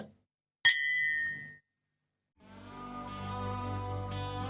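Glasses clink once, sharp and ringing, in a bourbon toast with Maker's Mark Cellar Aged 2023, the ring decaying before a sustained musical tone swells in.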